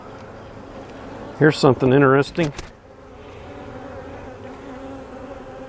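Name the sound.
honeybees buzzing on a hive frame, attacking a wasp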